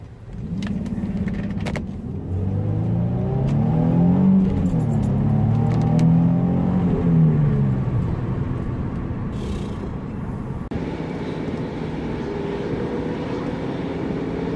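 A stock, roughly 290-horsepower 2005 Nissan 350Z Roadster convertible in Ultra Yellow Grand Touring trim drives along. Its engine drone rises and falls steadily, with a shift in tone partway through and road noise underneath.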